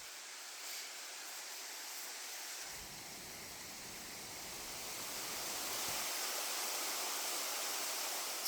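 Union Creek, a mountain stream in the Norse Peak Wilderness, rushing steadily past a day use area, a continuous broadband hiss of flowing water, fairly faint and unbroken, swelling slightly toward the end.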